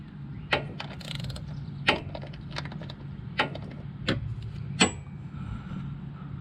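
A ratchet working an 11/16 nut on the oil filter of a 2023 Harley-Davidson Electra Glide, heard as about six sharp metallic clicks spaced roughly a second apart over a low background hum.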